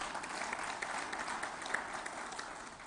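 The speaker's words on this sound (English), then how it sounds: "the Gujaratis deserve a huge round of applause from all of us" Steady applause from an audience at a Plastindia 2023 promotion event in a hotel hall, a dense even patter of many hands continuing throughout, moderately distant and fairly quiet.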